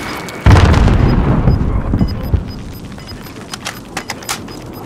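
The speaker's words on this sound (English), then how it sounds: "Throwing frag!" A frag grenade in Call of Duty Warzone goes off in one loud, close blast, followed by a rumbling tail and scattered crackles and small pops as the noise dies down.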